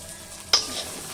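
Green peas with a little salt frying in a pan, a soft sizzle with one quick scrape of stirring, close and short.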